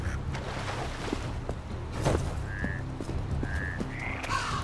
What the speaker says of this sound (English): There's the frogs.